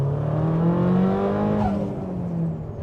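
An Audi TT with a big turbo, around 416 bhp, accelerates hard in second gear. The engine note climbs steadily in a rising, close roar, then a gear change drops the pitch and the pull continues.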